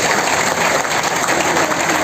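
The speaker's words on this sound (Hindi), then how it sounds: "एक बार जोरदार तालियां होनी चाहिए गुरुदेव के लिए।" Loud, dense applause from a seminar audience in Gurugram, continuous crowd clapping at full intensity from start to finish.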